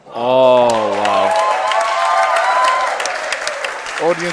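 An indoor squash match crowd applauds and cheers steadily and loudly for several seconds, with a sustained tonal whoop at the start and voices mixed through the ovation.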